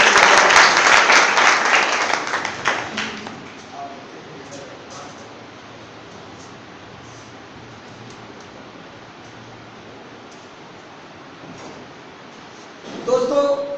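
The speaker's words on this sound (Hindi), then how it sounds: "जोरदार तालियों से" Loud burst of crowd applause and clapping that fades over a few seconds into quiet room noise, with a brief stir of sound at the end.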